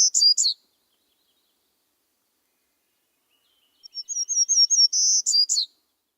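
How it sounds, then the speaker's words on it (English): Townsend's warbler singing: a brief burst of high, buzzy notes, then a pause of several seconds before a longer run of rapid, thin, rising zee-like notes that ends in a few sharp chirps, clear and close with silence between. "Let's take one more listen to that. The Townsends warbler."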